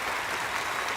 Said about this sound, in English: you hear everybody at the Game Awards was cheering.